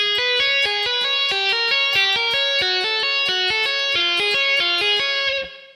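Electric guitar playing a rapid tapped triplet pattern, a fast, even, repeating run of bright distorted notes that steps down in pitch in half steps, loud and alone before stopping abruptly.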